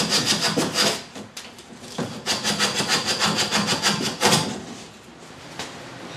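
Close, rhythmic hand sanding of wooden boat spacers with tape-backed sandpaper, a rasping back-and-forth scrub in quick regular strokes, pausing briefly before resuming.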